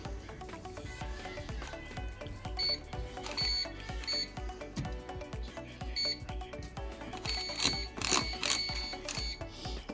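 A food dehydrator's control panel gives short, bright electronic beeps while its timer is set. The beeps come in a few separate bursts over a steady background sound.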